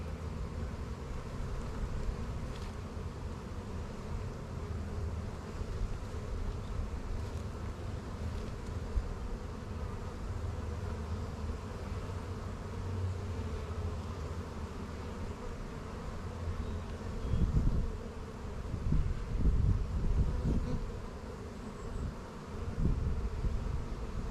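A soft, steady buzz of many honey bees on a hive frame hums close by, low and continuous, swelling slightly toward the end.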